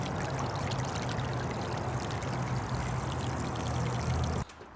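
Water gushes steadily from a household water heater's drain, a loud continuous pour that stops abruptly at the end, with no voices.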